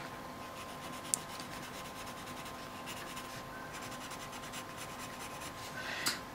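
Coloured pencil shading on paper in a small miniature colouring of a frog and lily pad, a soft continuous scratchy rubbing in bursts of strokes with a couple of faint taps, close and quiet, with no talk.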